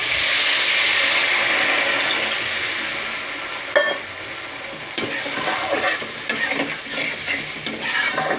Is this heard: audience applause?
no